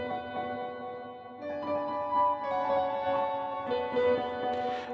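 Offbeat synth keys in a trap beat, shaped by a Tone Flex plugin, play as sustained tonal chords that shift in pitch over a few seconds with soft rhythmic pulses beneath, alone and fairly quiet.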